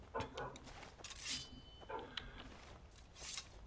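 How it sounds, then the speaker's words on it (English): A wolf in the video game Skyrim gives a few short, faint barks and yips in quick succession, scattered over a quiet background. "Oh, another dog, a wolf to inconvenience us."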